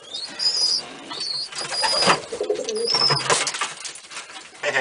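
Pigeon cooing, a gray blue-bar domestic pigeon, giving soft repeated coos alongside other bird calls, fairly close and steady throughout.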